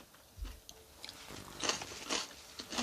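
Close, soft biting and crunchy chewing of stir-fried sour bamboo shoots, a few quick bites followed by steady mastication, faint and intimate with no talk.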